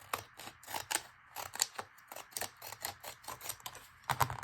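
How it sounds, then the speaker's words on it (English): Ripple-edged craft scissors snip paper for an artist trading card folder, a quick series of crisp, close cuts in an uneven rhythm, alone with no talk. "I'm going to go ahead and use the ripple scissors and follow that up"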